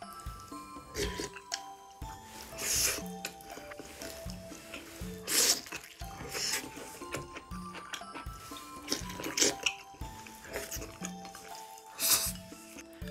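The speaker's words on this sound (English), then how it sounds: "please excuse me for slurping" Wet slurping and sipping of soup from a bowl, in repeated bursts close to the ear, with small clinks and drips between them and no talking.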